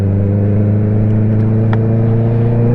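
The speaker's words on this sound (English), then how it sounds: "I love this bike and its exhaust, but oh, it is brutal." A 2019 Honda CBR650R motorcycle with an aftermarket exhaust drones loudly at steady speed while riding, a deep continuous engine rumble with strong low harmonics and faint wind noise.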